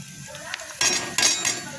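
Chickpea curry masala with salt sautéed in a pan, a spoon scraping and clinking against the metal in a few short bursts over a faint sizzle, close and fairly loud.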